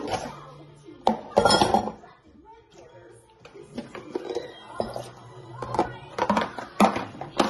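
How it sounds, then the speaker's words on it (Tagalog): Dishes and cutlery clink and clatter in bursts while a person talks over the sound of washing up nearby. "Naghugas ng pinggan."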